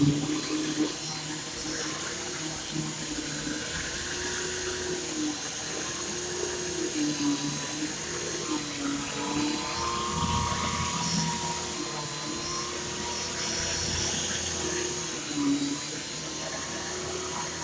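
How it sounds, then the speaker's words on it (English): A Bissell vacuum cleaner runs loud and close throughout a big mess test, a steady motor whine with a gurgling, wavering suction tone as it picks up debris. "Here goes the Bissell big mess test"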